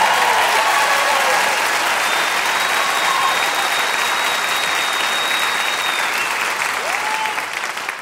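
An indoor audience at an evening performance claps in a dense, even wash of applause that holds steady and thins slightly toward the end.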